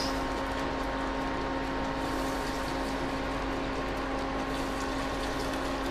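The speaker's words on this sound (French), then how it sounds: "je vais mélanger avec un fouet" A whisk works polenta into liquid in a pot, making a continuous rapid scraping and swishing that stays steady and close, with a faint mechanical hum underneath.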